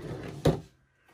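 An IKEA drawer slides shut with a single short wooden knock, close by in a quiet room, followed by near silence.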